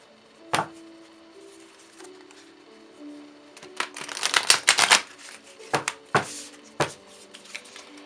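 Cards being shuffled for a card reading, heard as a brief riffle near the start, then a cluster of quick papery flutters and several separate snaps and slaps, close and fairly loud over a quiet room with a faint hum.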